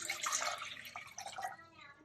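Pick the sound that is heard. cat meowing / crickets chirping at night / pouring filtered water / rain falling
pouring filtered water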